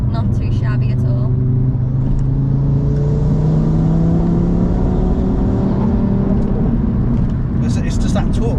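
A 700 bhp Audi RS3 launching hard, its engine note climbing steadily in a loud, continuous pull that fills the whole stretch, with people talking over it inside the car.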